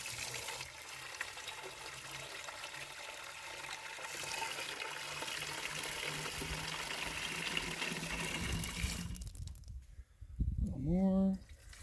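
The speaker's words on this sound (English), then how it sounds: "filling up the container" Steady rushing splash of kelp juice pouring from a pressurized sprayer into a container for about nine seconds, then stopping, followed by a short rising whine.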